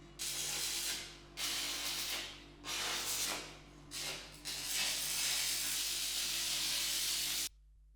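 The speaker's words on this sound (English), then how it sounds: "That's not how you're supposed to weld." Welding runs in several long bursts, a loud continuous crackling hiss over a steady electrical hum, with short gaps between runs before stopping abruptly.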